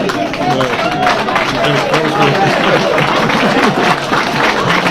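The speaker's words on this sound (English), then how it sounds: "Definitely give them both a round of applause." A crowd at a Florissant, Missouri mayoral candidate forum in 2019 claps for the candidates, a dense wash of hands mixed with loud overlapping chatter and voices throughout.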